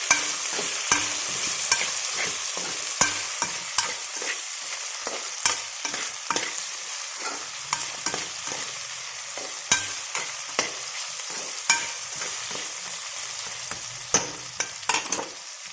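Kabuli chana mixture being fried and stirred with salt in a pan, an even sizzle broken by regular sharp scrapes and taps of the spoon against the metal, close and continuous.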